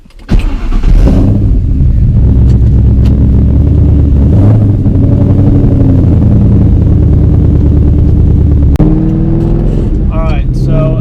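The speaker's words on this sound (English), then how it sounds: "Hopefully you can hear me over the car" A car's engine and exhaust drone loudly and continuously from inside the car while driving, captured up close with a GoPro. Someone talks over the engine throughout.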